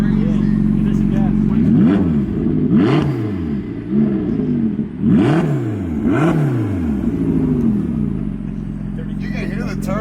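A BMW M1000RR motorcycle engine revs hard several times in quick succession, loud and close, each blip rising and falling over a low idle, with turbo whine audible and people talking nearby.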